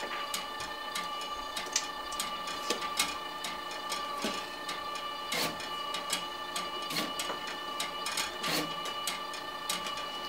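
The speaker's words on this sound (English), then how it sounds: "we're going to start the labeling part, then the input feeder, and the automatic feeder" A LAB500 labeling machine with its automatic feeder runs steadily, giving off a whirring mechanical hum punctuated by irregular ticks and clacks as items pass through, close by and without speech.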